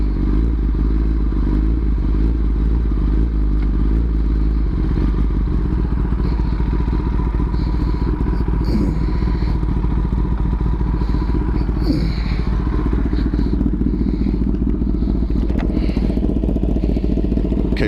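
2020 Kawasaki ZX10R sport bike with Akrapovic link pipe, slip-on exhaust and cat delete, revved up close and loud over a deep steady idle, with a few sharp throttle blips and crackles.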